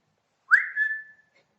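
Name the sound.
whistled bird call imitating chickadee's phoebe note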